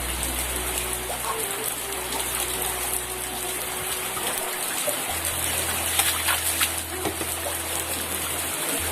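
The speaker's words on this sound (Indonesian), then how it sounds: "Diguyur hujan." Heavy rain pours down on an Islamic boarding school compound after midday, a dense continuous hiss of water falling on roofs and ground with splashing gushes, loud and steady throughout.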